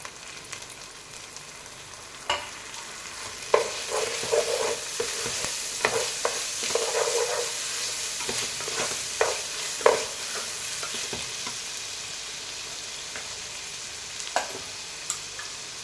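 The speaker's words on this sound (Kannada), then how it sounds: "ಟೊಮೊಟೊ ಸೇರಿಸ್ಕೊಳ್ತಾ ಇದ್ದೀನಿ." Tomatoes sizzle in a pan of masala for paneer dum biryani, with a steady frying crackle close up and irregular spoon knocks and scrapes as the mix is stirred.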